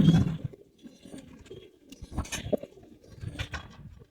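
Giribaz high flyer pigeons in a loft give soft, low coos in short repeated bursts, with light scuffling and pecking sounds between the calls, fairly close and quiet.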